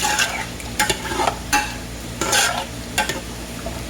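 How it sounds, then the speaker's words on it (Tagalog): Caldereta of lamb is stirred in a pot, giving a run of scraping, clattering utensil strokes in uneven bursts over a steady low simmer, close and moderately loud, with no talking. "haluin lang po natin yan"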